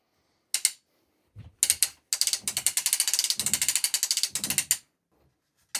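A ratchet on a long arm quilting frame is cranked in short bursts, with rapid close clicking pawl ticks and a few pauses between turns, no voices.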